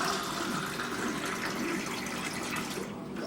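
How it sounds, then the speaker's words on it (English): Water poured from a glass into a pot of dal makes a steady, close splashing rush that runs without pause for about three seconds and eases slightly at the very end. "So I have added about a glass of water now."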